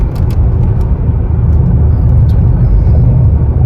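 Loud, steady engine roar from a custom-tuned Mercedes-AMG accelerating hard through a gear, a continuous deep rumble with no talk.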